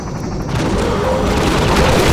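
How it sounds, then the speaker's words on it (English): Enemy gunfire blasts through walls in the Half-Life 2 Episode 1 hospital level, a loud, dense barrage of booming shots and crashing impacts that builds in intensity. "He's gonna be shooting his way through the walls"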